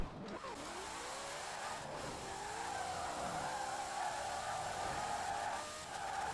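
A 1900-horsepower drag-racing Ford Mustang in Forza Horizon 4 accelerates hard, its engine note rising steadily and holding a loud, continuous high-revving roar throughout.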